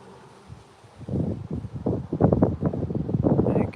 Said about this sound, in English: So I don't know if you can hear the wind.